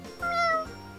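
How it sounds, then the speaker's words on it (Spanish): A pet cat in the video game Free Fire lets out a single short, clear meow that rises and falls, close and alone. "El truco de maullar, mira."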